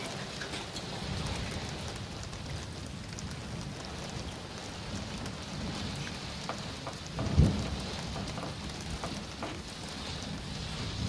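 Steady rain falls throughout, a continuous soft hiss of drops with one brief low thump partway through and no voices.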